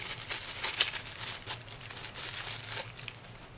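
Plastic bag crinkling as a spare switch for a Solarforce M8 XM-L Cree U2 LED flashlight is unwrapped, close and fairly quiet, with irregular rustling and crackling bursts and no talking.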